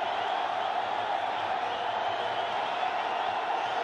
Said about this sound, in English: Wow, the crowd are absolutely loving it.